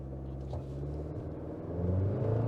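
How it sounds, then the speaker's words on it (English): A GMC Canyon Denali four-cylinder turbo pickup held on brake torque then launched, its engine rumble building steadily and swelling louder toward the end, heard close from inside the cab with no talk. "So just going to brake torque it and see what this four-cylinder can do."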